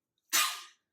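A single short, sharp sneeze burst, loud and close, trailing off quickly into silence.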